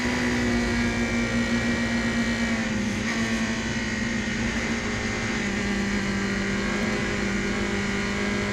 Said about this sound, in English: This is where the cars are flat out in qualifying.